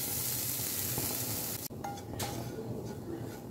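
Grated coconut fries in a small amount of cooking oil in a pan, giving a dense, steady sizzle with a brief stir and a light clink partway through.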